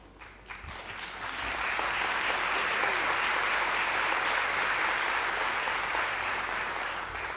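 Conference audience in Paris applauding, the clapping building within the first second into a full, even wash of many hands that continues throughout.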